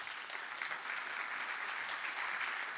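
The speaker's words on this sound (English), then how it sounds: "Applause." A large crowd at an energy congress claps steadily as a guest is invited on stage, an even wash of applause sustained for a few seconds without talk.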